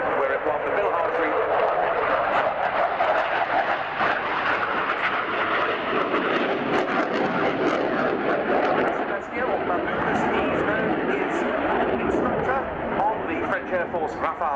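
A French Air Force Rafale jet flies a display at an air show, its engine roar loud and sustained throughout, with a commentator talking over it.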